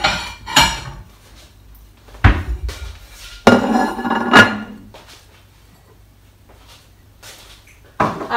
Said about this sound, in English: I'm going to get a plate.